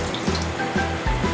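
A kitchen sink sprayer runs water in a steady, close hiss of spray, even and continuous with slight pulsing, heard alone without talk.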